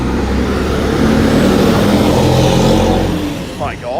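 A loud car exhaust roars close by on a street, a heavy rumbling rev sustained for several seconds before it fades a little, with a voice talking over it.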